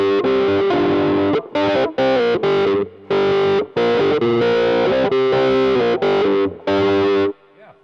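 An electric guitar played through distortion with a wah-wah effect on top, a series of loud, clipped chord stabs and sustained notes with short gaps between them, close and alone with no talk.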